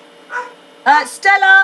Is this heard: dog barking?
yes